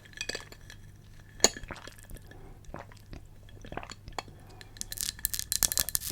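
Glass being handled during an early-morning makeup session: sharp clinks and taps come at irregular moments, one louder knock near the start, then a run of brighter clinking toward the end, all close and quiet with no talking.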